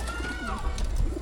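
Pigeons coo in a loft, with a couple of soft, close, warbling calls rising and falling over a quiet background, brief and unaccompanied by talk.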